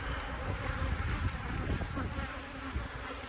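Honey bees buzzing around brood-box hives treated with VarroxSan strips, a dense continuous hum of many insects close by, swelling and fading slightly as individuals pass.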